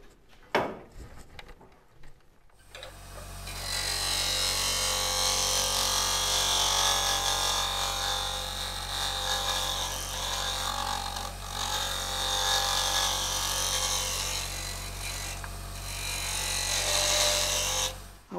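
A power sander starts up with a steady droning whir and grinds continuously against a cherry wood burl, its pitch wavering slightly as pressure changes.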